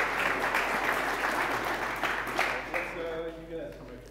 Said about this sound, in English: Can we get a round of applause for volunteers?